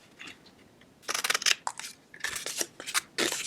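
Scissors snip paper tabs off a die-cut sailboat treat box: a quiet pause, then a cluster of crisp, close cuts and a second run of snips.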